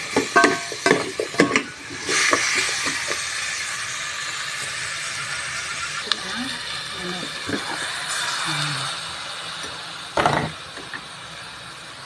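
Tinola chicken soup with papaya, onion and garlic is stirred in a pan, giving scattered scraping and clinking strokes early on, then a softer simmering hiss with occasional knocks as a voice speaks over it.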